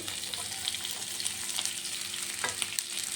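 Carrots, beans and green peas hit a pan of frying onions, giving a steady close sizzle with light stirring scrapes throughout, a few sharper crackles near the end.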